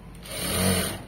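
A sewing machine runs a continuous stitch along a seam, giving a steady close mechanical whir that swells slightly toward the middle of the short burst. No voices.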